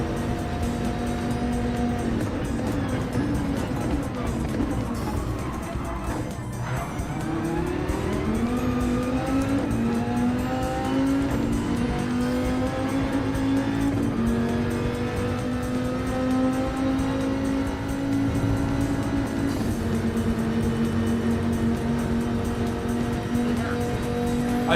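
A Dodge Viper GTS-R Group 3 race car roars through a Gran Turismo 7 race at Deep Forest, its engine note held steady, dipping under braking, then climbing through gears with rising revs, loud and close throughout.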